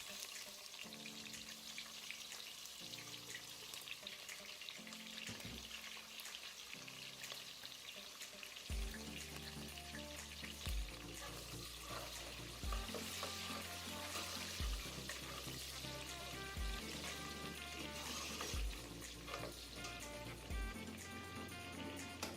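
Sliced onions fry in hot oil for a Nigerian stew, a continuous soft sizzle with gentle crackle running beneath background music, fairly quiet and steady throughout.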